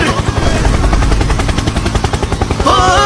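Helicopter in the Roblox game Murder Mystery, a steady loud rapid chopping rotor pulse filling the whole stretch, with a brighter tonal game sound entering near the end.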